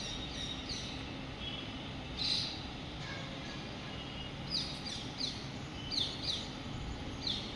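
Small birds give brief, bright chirps near a cucumber vine, scattered through the clip over a steady outdoor background hiss. The calls are soft to moderate and come in short bursts with gaps between them.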